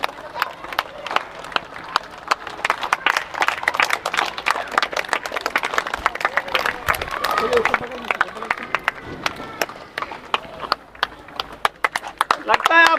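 An audience at an Ayurveda and AYUSH health programme claps continuously, a dense rapid patter of many hands that keeps going throughout, with someone talking loudly over it.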